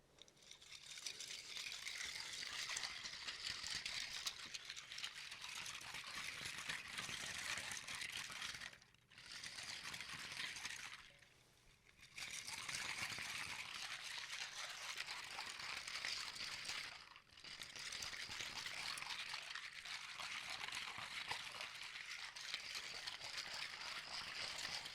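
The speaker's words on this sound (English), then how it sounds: "Lego in water." Small plastic Lego bricks stirred and jostled in water, giving a steady close run of soft clattering and sloshing with a few brief pauses, no voices.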